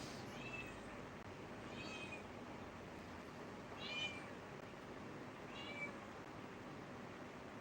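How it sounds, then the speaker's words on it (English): A cat meows four times outside a door, wanting to be let in, each call muffled and moderately distant over a steady background hiss. "My cat wants to get in."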